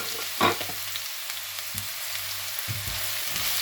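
Chopped onions dropped into hot oil fry with a steady, close crackling sizzle, broken by a few soft stirring knocks and scrapes of a utensil in the pan.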